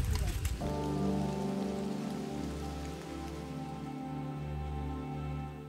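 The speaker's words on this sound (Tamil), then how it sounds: "இங்கே வந்து 5 நிமிஷத்துக்கு ஒரு வாட்டி மழை பெஞ்சிக்கிட்டே இருக்குது" Steady rain falls in the forest at Parambikulam, a dense even patter with drops drumming close by, continuous and fairly loud, with no talking.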